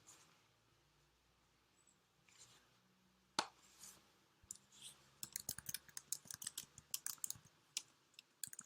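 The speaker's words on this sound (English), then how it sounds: "So I will type that thing." Close, quiet clicking of keys typed on a computer keyboard, starting with one sharp tap and then running as a fast, irregular patter of keystrokes, with no talking.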